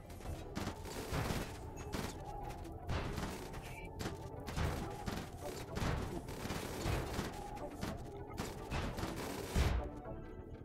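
Gunfire in a RimWorld battle against mechs: rapid bursts of shots and fusillades with thuds, steady and moderately loud, mixed with faint game sounds and little talk.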